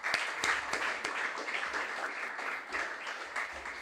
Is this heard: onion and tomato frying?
no